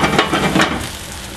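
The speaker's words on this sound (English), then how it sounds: "Hear that butter just subside?" Butter sizzles loudly in a pan for a French omelette, a dense, close crackling hiss that gradually settles over about a second and a half.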